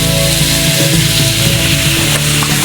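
Chopped potatoes and eggplant fry loudly in a hot pan, a close, dense, continuous sizzle with faint scraping underneath.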